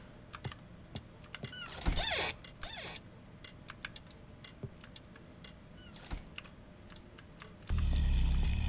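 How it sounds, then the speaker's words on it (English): Doors creak and clatter in the horror video game Pacify, several sharp creaks and knocks at moderate level over quiet ambience, ending with a louder rumbling burst. "Fucking doors! They're so loud!"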